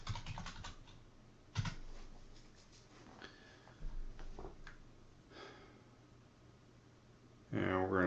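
Keystrokes on a computer keyboard as a command is typed into a CAD drawing program, sparse clicks scattered over several seconds under and between talk, with a louder burst of taps near the end.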